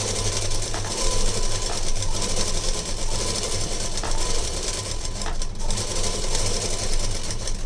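A sewing machine stitching the lining of a blouse back, running in a fast continuous whir with rhythmic mechanical clatter, close and steady with brief slowdowns, no talk.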